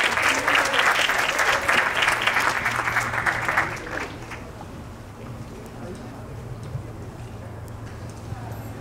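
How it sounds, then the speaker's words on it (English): Audience applause at a press conference for a clinic, a dense steady clapping that fills the room for several seconds, then fades into a quieter hall with murmuring voices. "please welcome him with a warm round of applause."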